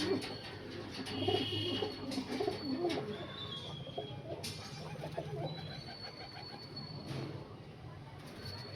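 Punjabi Malwai Miravwale nasal pigeons coo repeatedly at close range in soft, throaty bursts, with occasional thin chirps and light handling noise in between.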